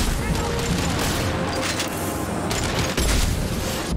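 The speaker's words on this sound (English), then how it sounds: "let's get the shotgun out" Shotgun fire in the video game Mass Effect 2, with loud, dense bursts of combat blasts and booms over a constant roar of battle noise, close and continuous, ending in a heavier burst near the end.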